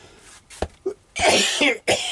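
A man coughs several times in quick, harsh bursts close by, with short gaps of near silence between them.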